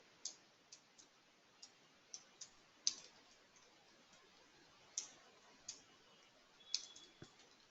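Computer mouse clicks during software setup work, about a dozen sharp, faint, close clicks spaced irregularly in a quiet room, alone without talk.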